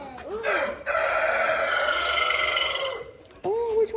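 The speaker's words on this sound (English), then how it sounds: "Oh, that's a male. That's a rooster." A rooster crows on a farm where cows and other animals are being fed, one long loud crow lasting a few seconds amid outdoor background noise, with people talking around it.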